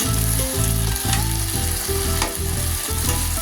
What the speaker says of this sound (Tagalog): Muna pong ipiprito ang patatas.